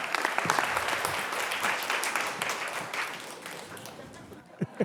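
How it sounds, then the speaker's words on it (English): A crowd at a closing event applauds as guests take the stage, dense clapping that gradually thins out and leaves a few last scattered claps. "I ask you to give them a round of applause"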